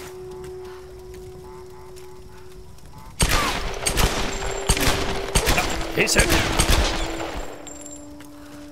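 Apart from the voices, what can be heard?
gunshots in a video game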